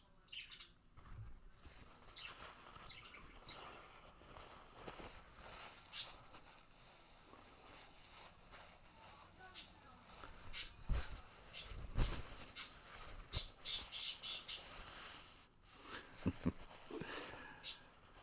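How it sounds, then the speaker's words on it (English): Parakeets chirp in scattered, fairly faint bursts that grow busier toward the end, with thin high tweets and some fluttering over a low background hum. "Oh yeah, the parakeets are at it."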